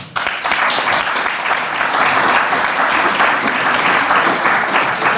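An audience at a digital innovation plenary panel session applauds the panelists with loud, dense, sustained clapping that starts abruptly and continues for about five seconds.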